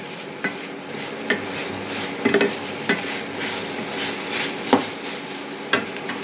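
Ivy gourd and onion frying in a pan, giving a steady sizzle with repeated scraping stirs and occasional utensil knocks against the pan, close and moderately loud, with no voices.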